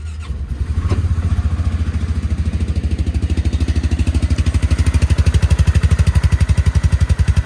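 A Polaris Ranger 500 utility vehicle engine runs nearby with a steady, rapid, throbbing pulse that stays loud and even throughout, with no one talking.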